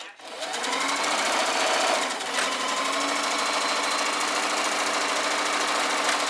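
A sewing machine runs steadily, seaming petticoat flounce fabric pieces together in one continuous, close, even mechanical whir, with no speech.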